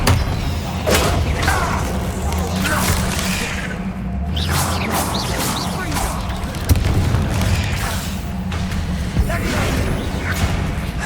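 Confringo fire-spell blasts in Hogwarts Legacy, repeated booming explosions and whooshes in a busy combat mix with voices shouting over them.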